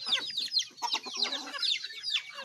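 Chickens of mixed backyard breeds, including curly-feathered and black-fleshed native birds, cluck and squawk close by in a busy, overlapping chatter with no pauses, one bird calling over another throughout.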